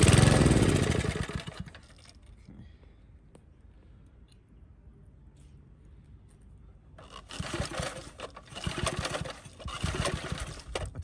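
Vintage Briggs & Stratton small engine at half throttle, a loud burst at the start that drops to a quiet, uneven idle, then picks up again into bursts of rough, sputtering running near the end.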